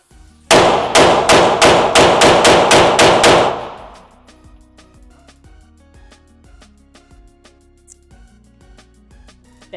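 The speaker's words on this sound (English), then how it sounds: "let me just take these last 10 and just shoot" A Springfield Prodigy pistol fires ten rapid, evenly spaced shots, each a sharp loud crack, before the string ends and only quiet room tone remains.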